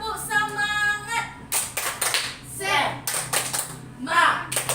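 Children in a classroom perform a rhythmic clapping chant, bursts of patterned handclaps alternating with voices chanting along in a sing-song cadence, close and lively.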